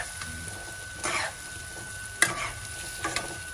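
Salt is stirred into a sizzling tomato masala in a pan for tawa chicken. Several soft scraping stir strokes rise and fall over a faint, steady frying hiss, and no one speaks.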